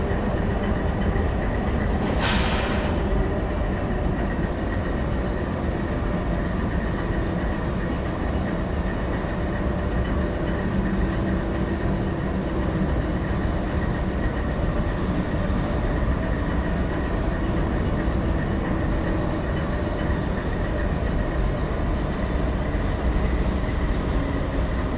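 Train pulling into a yard at km 460 in the Open Rails simulator, with a constant heavy rumble of rolling wagons and low clattering wheels throughout, and a brief hiss near the start.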